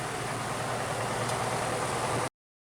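A Piper PA-28 light aircraft engine runs just after start, giving a steady, loud, close broadband roar at constant throttle that cuts off abruptly at the end.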